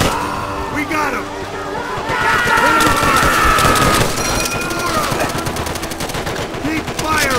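Call of Duty: World at War battlefield gunfire, dense loud machine-gun bursts and rifle shots under shouting soldiers and battle noise that never lets up.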